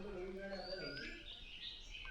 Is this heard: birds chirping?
yes